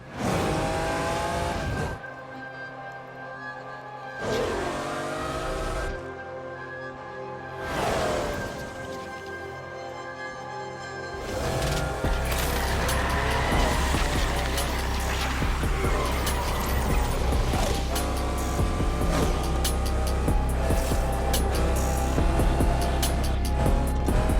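A car accelerating in the racing video game Need for Speed Unbound: engine revs rise in short bursts, then a continuous loud, roaring drive with tyre noise and game music filling the second half.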